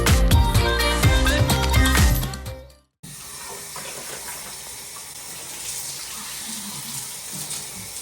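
Water gushes from a worn shower head in a home bathroom, a steady, loud hiss that starts abruptly after a brief silence and continues without talking. Music plays before it.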